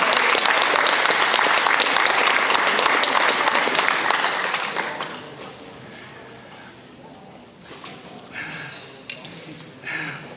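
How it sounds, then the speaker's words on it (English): An audience at a high school signing day applauds an athlete, a loud, dense round of clapping that fades after about five seconds into quieter room sound with scattered noises. "Let's give him a round of applause."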